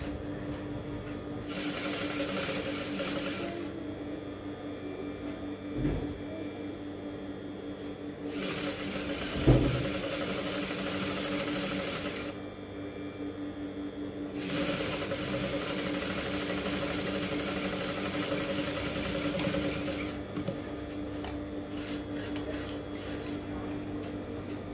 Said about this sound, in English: We will also sew the same thing to this other side of the top.